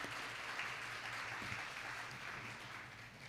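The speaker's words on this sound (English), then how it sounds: "So a round of applause for Dr." At a sun protection forum on vitiligo, an audience gives a round of applause for Dr. Schuster, a soft, even wash of clapping that fades slightly toward the end.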